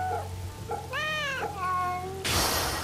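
A cat meows in the Fate/Samurai Remnant video game, one short mew followed by a longer, rising and falling meow, close and clear over a low game ambience, ending in a burst of broadband noise.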